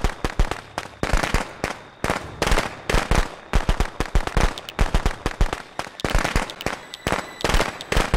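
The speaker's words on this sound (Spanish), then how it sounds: "Tira los petardos." Firecrackers crackle in the horror video game Friday the 13th, a fast, uneven string of sharp pops and bursts going off close by for several seconds without pause.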